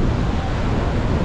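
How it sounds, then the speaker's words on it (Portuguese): Seawater rushes and washes over the seafront embankment at Boa Viagem, Recife, as waves surge in, a dense, continuous broadband roar with wind, close and loud throughout. "Aí, água correndo aqui em cima"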